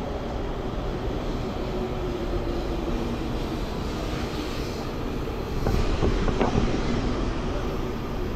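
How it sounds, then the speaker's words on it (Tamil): A steady, broad rumble of a Taiwan High Speed Rail train pulling into a station, growing slightly louder toward the end with faint metallic clanks. "கைஸ் ட்ரெயின் வந்துச்சு பாருங்க."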